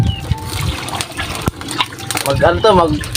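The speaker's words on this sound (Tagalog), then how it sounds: "Lagyan mo ng tubig na isang drum." Water pours and splashes continuously into a drum outdoors, a busy liquid rush under steady talking from several people, with a sharp knock partway through.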